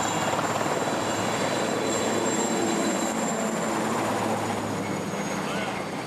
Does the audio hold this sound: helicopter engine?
yes